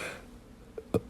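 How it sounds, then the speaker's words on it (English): A short soft yawn followed a moment later by a louder, abrupt low burp, both close by against quiet background. "It was a yawn and a burp."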